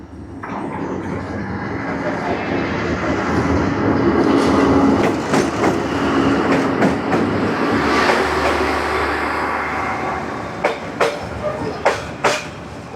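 A Hanoi train rumbles slowly and loudly past at very close range along the narrow Train Street, a continuous roar of wheels and carriages with rhythmic clacks toward the end and faint voices underneath.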